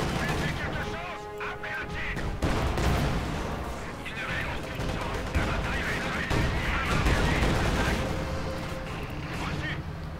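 Tank cannon blasts and rattling gunfire in the Company of Heroes 2 war strategy game, dense overlapping shots and booming explosions with a continuous battle din, loud and busy throughout with no voices.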